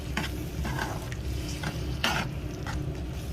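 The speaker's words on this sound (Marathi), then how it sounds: "तर हे परत चांगलं मिक्स करून घेऊया" A spoon scrapes and stirs through chicken in a hot pan for black pepper chicken, with a steady sizzle underneath and a few louder scraping strokes.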